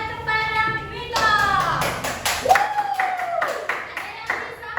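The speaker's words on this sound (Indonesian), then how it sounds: "Oke, beri tepuk tangan kepada Mita." Classroom of children clapping for a classmate, scattered uneven claps in short bursts mixed with kids' chatter and a teacher's voice, fairly close and moderately loud.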